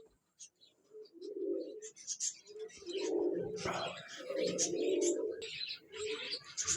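Pigeons coo in repeated low, rounded calls, close and fairly loud, alongside higher chirps; the birds are Parwazi flying pigeons kept by a pigeon club for sale, and a voice can be heard among the calls.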